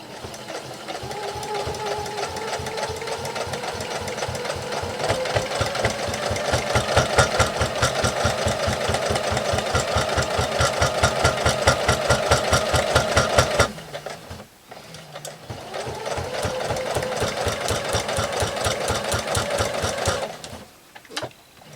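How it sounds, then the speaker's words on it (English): Sewing machine stitching a potholder towel, a steady loud rapid needle clatter that pauses briefly and then resumes with the same rhythm. "I'm just going to sew all the way to the end again."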